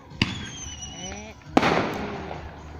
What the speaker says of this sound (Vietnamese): Pháo hoa đây đâu có đẹp mấy.